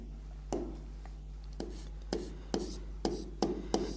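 Chalk or marker strokes on a classroom board during a biology lesson, several short scratchy taps and strokes spaced irregularly over a steady low hum, fairly quiet.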